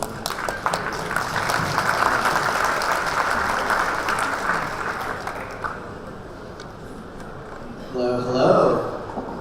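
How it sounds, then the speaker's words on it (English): Sustained applause from a conference audience welcoming panelists onto the stage for a smart contract security discussion, steady and dense for most of the clip, easing near the end as a voice starts speaking. "Big clap, please."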